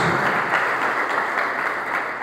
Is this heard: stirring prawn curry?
no